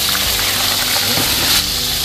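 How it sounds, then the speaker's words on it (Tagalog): Fish fries in hot oil in a pan, crackling and sizzling loudly and steadily, a dense spattering hiss with no voices. "nakapagsalang na rin tayo dito ng kawali na may mantika. Prito na natin ito"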